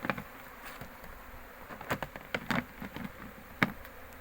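Honey bees from an open hive during autumn inspection in preparation for winter buzz softly and steadily nearby, with occasional closer passes flaring louder over a low outdoor background.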